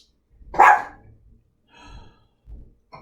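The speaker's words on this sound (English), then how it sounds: "Simba, my dog." A dog gives one loud, close bark followed by a couple of softer huffs and short breathy woofs, with no talk.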